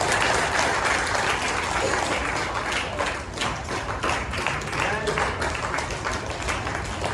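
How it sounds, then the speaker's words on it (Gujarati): Sustained applause from a crowd at a Diwali Annakut darshan gathering at a Ram temple, a steady dense wash of clapping that holds for the whole stretch with little change in level. "જોરદાર તાળીઓ ચાલુ રાખજો"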